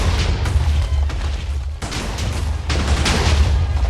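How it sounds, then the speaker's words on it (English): Large mine explosions in the Minecraft video game: a continuous roar of booming blasts with deep rumble and crackling bursts, loud and dense across the whole stretch, with no talk. "Let's go stand over here and do the big explosion."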